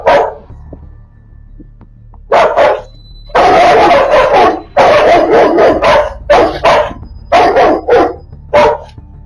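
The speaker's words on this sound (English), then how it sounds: "3 Rottweilers were barking at his dogs through a fence" Three Rottweilers bark loudly and repeatedly through a fence, overlapping in rapid bursts with brief pauses between volleys, close and dominant with no voices.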